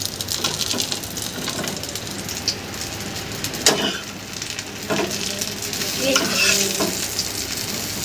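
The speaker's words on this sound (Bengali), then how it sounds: "এই যে সুন্দর করে বেগুন ভাজা করছো তো তুমি" Eggplant slices sizzle and spit steadily in a hot frying pan, a close, dense crackle with occasional stirring scrapes and clatter from the utensil.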